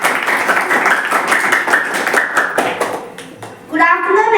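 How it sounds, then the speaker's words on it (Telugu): Audience clapping at a school Vivekananda Jayanthi event, steady dense hand claps carrying on for a few seconds and then thinning out, with a voice starting to speak over the tail end. "క్లాప్ కొట్టడం"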